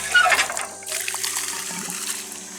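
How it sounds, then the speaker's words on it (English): Water gushes and trickles from an old hand pump at a cemetery as it is worked, a close splashing flow that tapers into a softer dribble. "I'm gonna pump this one and see if it's still working."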